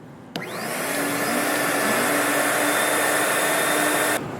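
A Dash Clean G32 HEPA dust extractor switches on with a sharp click and spins up into a loud, steady vacuum roar with a whining motor tone, running continuously close by before cutting off at the end.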